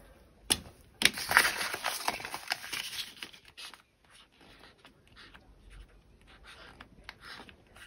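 Felt-tip pens colouring a folded paper fortune teller, scratchy close strokes and paper handling loudest at the start, then fainter intermittent scribbling.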